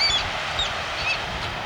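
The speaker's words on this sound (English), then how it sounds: "Little like bird rookery there." Seabirds at a rookery on the rough, rocky coast of Dirk Hartog Island give a few faint, brief chirping calls. The calls sound distant over a steady wash of wind and surf.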